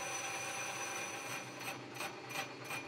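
A small home-workshop lathe runs slowed down while machining a model steam engine flywheel: a steady mechanical whir with a faint, regular ticking, rubbing rhythm in the second half, quiet and close.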